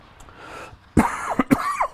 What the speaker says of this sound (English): Pesky cough will not go.